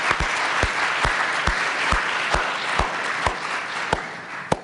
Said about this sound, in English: Let me just have a round of applause.